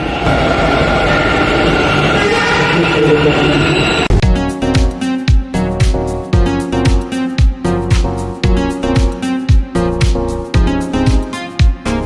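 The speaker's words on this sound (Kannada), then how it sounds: "ನಮ್ಮದು ಕೂಡ ಮೆಟ್ರೋ ಆಲ್ರೆಡಿ ಬಂದಿದೆ." A metro train arrives and rides, first as a steady broad rumble, then a loud, rhythmic run of sharp clattering hits that repeats for the rest of the ride.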